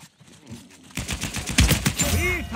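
Gunfire in the Uncharted 4 multiplayer video game, with rapid bursts of shots and impacts building in intensity over busy game audio, loud and close.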